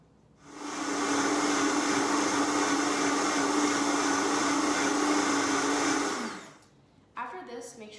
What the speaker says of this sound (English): Blend until the soup is very incorporated and very smooth.